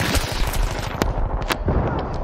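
Rapid automatic gunfire from the video game Battlefield 3 rattles in dense, fast bursts, with a few sharper cracks standing out above the continuous shooting.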